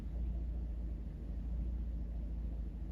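A Mercedes W124 300CE engine idling in drive, a steady low rumble with an even hum and no changes in pitch, heard alone.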